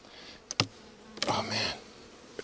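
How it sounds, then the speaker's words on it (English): Agitated honeybees around a hive in cold weather, heard as a few short, close buzzing passes with sharp onsets, loudest near the middle, with no talking. "I hate working with bees that I know are going to attack me."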